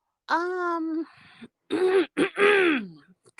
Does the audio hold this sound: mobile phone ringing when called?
no